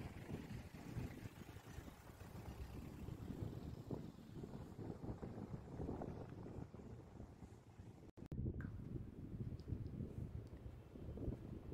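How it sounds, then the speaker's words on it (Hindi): Strong wind buffets the microphone in a steady low roar, gusting louder near the end, with no voices. "हवा इतनी तेज, मतलब आप देख सकते हो कितनी तेज़ हवा चल रही है"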